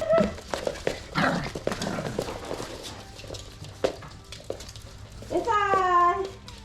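Young Miniature Australian Cattle Dog puppies around eight weeks old make small yelps and whines near a person who calls out to them, with scuffling and movement noise underneath.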